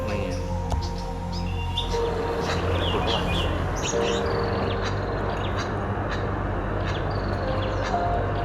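Birds call at a zoo in Vietnam, a dense chorus of chirps, tweets and harsher croaking calls going on throughout over steady background noise, some calls close and others farther off.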